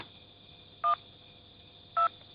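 Two short telephone keypad tones sound about a second apart over a quiet hum, the dialing of a phone in a Hunter x Hunter anime scene.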